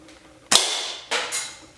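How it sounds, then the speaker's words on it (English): A weak airsoft-style gun fires two sharp, close shots about half a second apart, each a crisp snap followed by a short fading rattle, with no talking. "This is the weakest gun I've ever."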